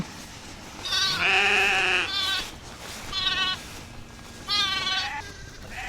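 Sheep with hundreds of newborn lambs on rotationally grazed pasture bleat in several loud, drawn-out calls, one long cry followed by shorter separate bleats from nearby animals over a quiet outdoor background.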